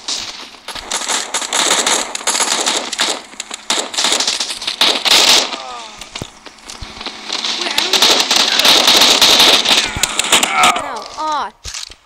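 Grenade blasts and crackling gunfire in the mobile shooter Modern Ops, arriving as a dense rapid string of sharp pops and bursts over continuous game noise, with excited players talking throughout.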